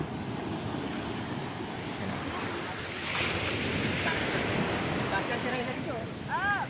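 Steady broadband rush of surf and wind across the whole stretch, swelling slightly midway, with a few faint bird-like chirps near the end.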